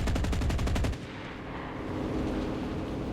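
Rapid burst of aircraft cannon and machine-gun fire in a La-7 versus Ki-84 flight combat game, a quick rattling volley lasting about a second before giving way to steady engine and wind roar.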